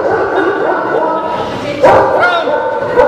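A dog barks and yips indoors during a staged comedy play, the short sharp barks and whimpers rising over loud overlapping speech from the actors.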